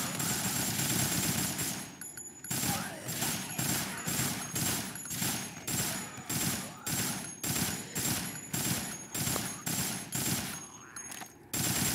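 Rapid automatic gunfire from a video game rattles in long continuous bursts with brief gaps, loud and close, with a voice talking now and then beneath the shots.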